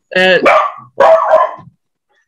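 A dog gives two loud, drawn-out barks close by, with a short gap between them and quiet after.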